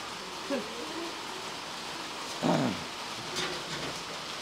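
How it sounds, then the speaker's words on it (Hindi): Rain falls at a goat farm as a faint, even hiss, with a few soft knocks or muffled sounds breaking through now and then. "बारिश हो रही है"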